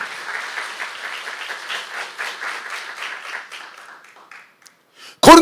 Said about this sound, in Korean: 믿는 사람만 박수 쳐보세요